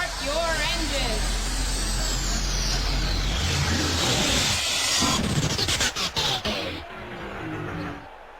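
Race car engines in an IndyCar racing video game at Indianapolis fire up and rev together, a loud dense roar with a low rumble that swells, then breaks into sharp revving bursts before dropping away.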